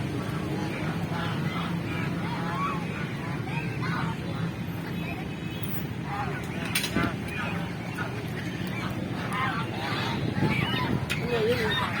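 A crowd of ducks at a zoo honks and quacks continuously at moderate distance, a busy overlapping chorus with faint voices in the background.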